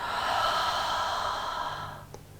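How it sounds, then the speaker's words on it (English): A long, deep exhale flows out steadily during slow yoga breathing, soft and close, then tapers off near the end. "And breathing out."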